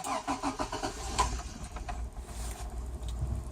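A small car engine with a push-button start and a new 1.5-inch exhaust turns over and catches, then settles into a low, steady idle, moderately close and fairly quiet.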